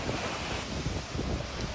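Storm wind gusting with heavy rain in Dubai, a dense roaring wash of noise buffeting the microphone continuously throughout.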